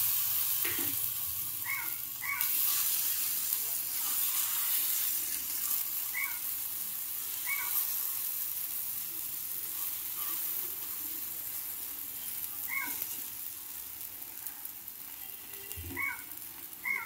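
Oil heats and fries on a tawa with a soft steady sizzle, punctuated now and then by small pops and crackles, close and moderately quiet with no talk.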